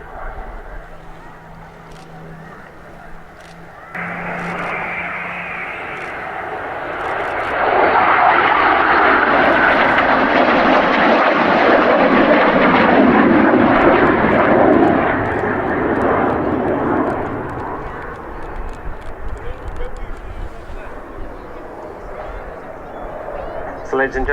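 A Eurofighter Typhoon jet flying a display at the RAF Cosford airshow, its engine roar swelling from a distant rumble to a loud, sustained pass before easing off, with a commentator talking over it.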